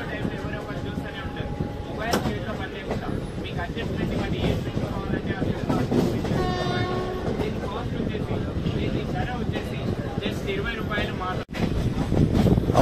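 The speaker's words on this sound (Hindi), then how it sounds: "तो अपनी ट्रेन यहाँ से निकल चुकी है फाइनली बिल्कुल ऑन टाइम।" Pinakini SF Express train rolling out of a station on the Vijayawada to Chennai route, a steady rumble of wheels and carriage noise with brief tonal squeals and hums, heard from on board.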